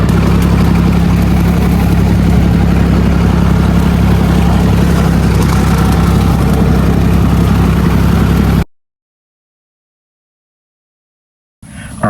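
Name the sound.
Massey Ferguson 135 tractor engine running while mowing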